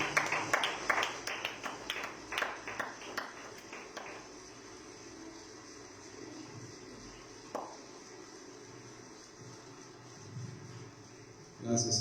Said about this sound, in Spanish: Dale otro aplauso más fuerte a Él